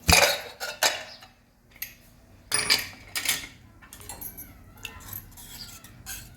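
Metallic clatter of a pressure cooker lid being handled and opened, a few sharp clanks followed by lighter rattling and scraping, close up.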